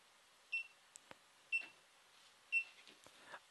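A bright electronic locate beep from a GoPro HD Hero 3 Black Edition camera repeats about once per second, four times in a row, clear against an otherwise quiet room with a few faint clicks.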